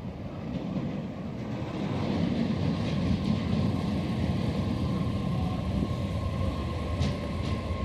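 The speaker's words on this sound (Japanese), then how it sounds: "2番線に静清中央行き電車が参ります。" A subway train arriving at a platform on the Kobe Municipal Subway rumbles steadily nearby, a broad low roar with a faint sustained tone above it, loud and continuous throughout with no voices.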